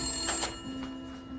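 A house telephone in a kitchen rings in a short, bright electronic burst of two quick pulses over a steady hum, fairly faint with no talking.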